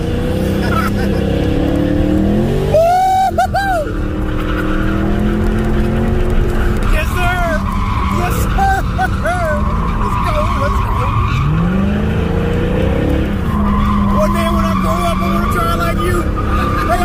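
A Dodge muscle car skids through a thrill ride, its tires squealing loudly and continuously over a roaring engine, with repeated rising and falling screeches as it slides. Voices are faintly mixed in beneath the noise.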